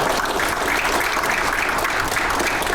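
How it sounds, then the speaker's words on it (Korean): A large audience at a policy forum on AI innovation hubs breaks into dense, steady applause that fills the room evenly for the whole stretch. "박수 한번 해주십시오"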